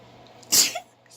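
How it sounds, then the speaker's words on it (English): A woman sneezes once, a sharp, close burst in an otherwise quiet room. "I had to sneeze."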